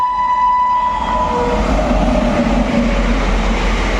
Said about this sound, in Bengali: লালগোলা শিয়ালদা প্যাসেঞ্জার দেখতে পাচ্ছেন দ্রুত গতিতে কুর্মিতলা রেলগেট পার করে মুর্শিদাবাদ রেল স্টেশনের দিকে যাচ্ছে